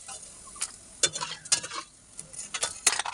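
Peanuts being dry-roasted and stirred in a kadai for mint chutney, with a steady close scraping and rattling of nuts against the pan and sharper clinks of the spoon at intervals.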